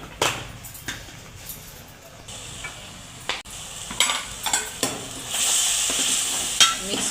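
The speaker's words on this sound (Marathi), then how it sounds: "हिरवं वाटण चांगलं तळू द्यायचं" Green masala paste fried over full heat in a pan for a puri bhaji meal, a soft steady sizzle broken by clinks and scrapes of a spoon stirring against the pan.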